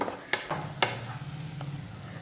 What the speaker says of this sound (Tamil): வெங்காயம் நல்லா வதங்கிடுச்சு